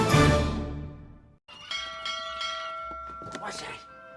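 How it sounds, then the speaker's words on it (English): A bell rings three times: a loud strike rings out and decays, followed by more resonant bell tones with sustained ringing overtones, close and clear. "What's that? 3 bells!"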